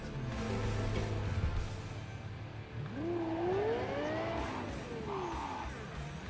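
A supercar engine revving in Cyberpunk, a loud steady roar with a rising and falling rev whine and tire noise, continuous through the stretch.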